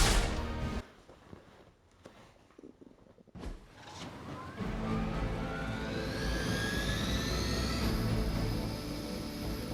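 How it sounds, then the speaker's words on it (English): Hydra helicopter engine in the video game Marvel's Midnight Suns, a steady loud turbine roar with rising whine that builds after a quieter stretch and holds to the end. "Disable the Hydra helicopter before it can depart."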